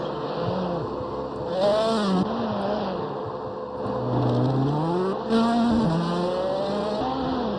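Race car being drifted sideways in a motorsport race, its engine whining and swooping up and down in pitch with revs, with occasional bursts of tire squeal.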